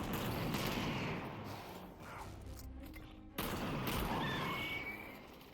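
Desert Eagle pistol fire in the VR game Half-Life: Alyx, a loud dense volley of gunshots with a brief lull midway before another sharp burst and continued firing, close and forceful with no talk.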